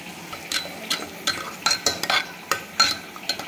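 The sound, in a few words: mashing and stirring cooked spinach and dal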